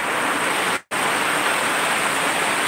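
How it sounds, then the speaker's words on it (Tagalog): Heavy rain pours steadily in rural Pangasinan province at dusk, a loud, dense wash of noise with one brief cut near the start. "malakas ang ulan, still heavy rains pa rin"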